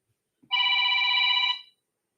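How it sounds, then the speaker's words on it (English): A phone rings in one steady electronic burst of about a second, bright and tonal, with no talk over it. "Why is my phone ringing?"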